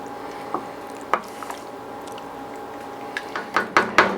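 A pot of ground beef chili with two kinds of beans being stirred, soft wet squelches and scraping taps spaced irregularly, growing louder and more frequent toward the end, close by and without talk.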